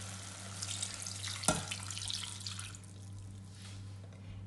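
Water is poured into a pan of chicken feet adobo, a quiet splashing, trickling wash after a brief clink, fading over a few seconds above a steady low hum.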